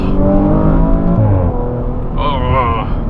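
Deep, loud 2018 Audi RS4 engine rumbling with the revs rising and falling, while a person talks over it.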